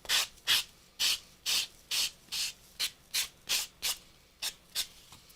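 Repeated brisk rasping strokes of sandpaper on the edges of a recycled paper Christmas tag, about a dozen in a steady rhythm, close and clear with no talking.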